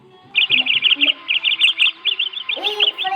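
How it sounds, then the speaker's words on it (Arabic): A small bird, a sparrow, chirps in quick bright runs of tweets, close and clear, with brief pauses between bursts and no talk. "عصفور"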